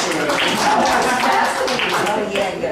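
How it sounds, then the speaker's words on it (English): Audience clapping at a gathering held at a buckwheat mill, a broad steady patter of many hands filling the room, with voices talking over it throughout. "Now, you guys clap, is that still considered a standing ovation?"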